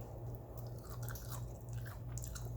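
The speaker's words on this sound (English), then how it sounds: "Can you hear that crunch?" Crisp crunching bites of jerk okra fries, several quick crunches close to the mic over a low steady background hum.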